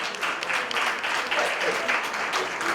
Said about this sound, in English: All the ladies who are there, raise your hand up real quick and give yourselves a round of applause.